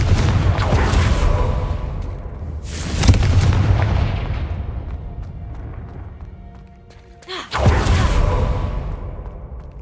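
Booming blasts of the Confringo fire spell in Hogwarts Legacy, two heavy rumbling explosions with a sharp burst near the end, loud and dense with no speech.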